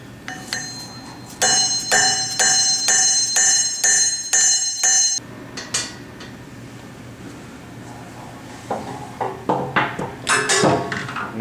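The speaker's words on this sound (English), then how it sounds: "I'm gonna hammer it in." Sharp metallic hammer strikes drive a mule shoe sleeve into place, starting with a fast run of evenly spaced ringing blows and then returning as a looser, quieter cluster of clanks after a pause.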